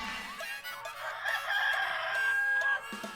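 A rooster crows on a family farm with one drawn-out call rising and holding for a couple of seconds, loud and close, with other chicken sounds faint in the background.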